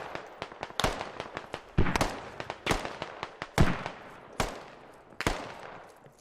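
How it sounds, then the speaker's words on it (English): Gunfire from a player shooting in a multiplayer military video game event, with sharp bursts and single cracks spread irregularly across the stretch, some loud and close, others fainter, with no talking. "Dorf shooting some more."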